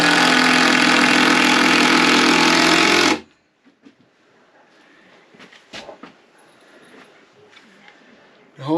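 A power tool drives screws into attic boards in one loud, continuous burst of about three seconds that cuts off abruptly, followed by quiet handling and shuffling noises.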